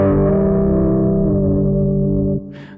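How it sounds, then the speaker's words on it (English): A synthesizer sound run through a distortion effect, a sustained buzzing harmonic tone held for over two seconds, then cut off abruptly with a brief noisy tail. "That's part of the distortion effects, but it's really flexible"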